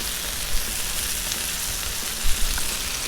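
Chicken wings frying in oil on a Blackstone flat-top griddle: a dense, steady sizzle and crackle that continues without a break, with a couple of louder spits and pops.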